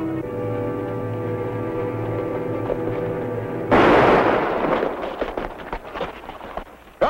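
A gunshot rings out in a 1951 western shootout, a sudden loud blast followed by a noisy decaying rumble and scattered clatter, after a stretch of steady background music.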